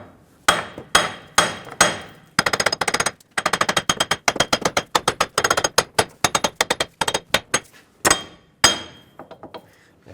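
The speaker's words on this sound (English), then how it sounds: "Now take a hammer, tap the wheel bearing back and forth, or top to bottom." A hammer strikes metal repeatedly while driving a front wheel bearing hub out of the steering knuckle of a 2008-2020 Dodge Grand Caravan, the sharp ringing blows coming singly at first, then in rapid close bursts with brief pauses.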